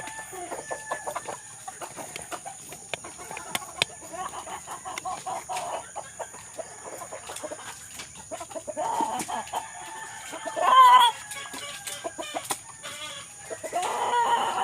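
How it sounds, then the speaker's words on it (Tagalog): Fighting chickens clucking repeatedly at close range during feeding, with a rooster-like call rising briefly near the end over a light outdoor background. "Manok natin."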